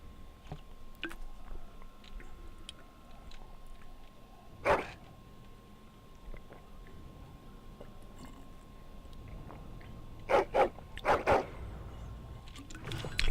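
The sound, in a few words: dog barking in Dragon Age video game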